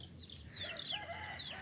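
A pet rooster called Suro, long handled by a child, gives soft repeated clucks at close range, with bird chirps audible in the background.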